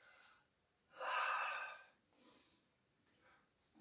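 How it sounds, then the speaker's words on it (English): Deliberate breaths during a leg-strengthening workout: one strong, loud exhale-like rush, followed by a softer breath and fainter breathy traces, with quiet pauses between. "So now, breathing motion."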